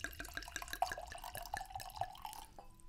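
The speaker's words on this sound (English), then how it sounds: "Here's a little pour." Red wine, a 2020 Ink red blend, trickles into a glass in a short, close, steady pour with small dripping splashes, fading out near the end.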